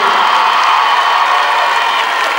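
A large audience at a Kinshasa event bursts into loud, sustained applause mixed with cheering and whoops, a dense continuous roar of clapping close to the listener.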